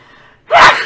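A single sharp sneeze bursts out loudly after a moment of faint background murmur, short and explosive with a quick fade.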